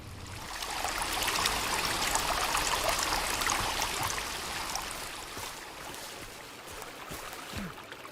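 Streams flow near a cave in the video game Sons of the Forest, a steady rushing, trickling water wash that fills the scene and eases slightly toward the end.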